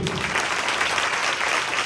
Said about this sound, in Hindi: ताली बजाइए इस मसीह को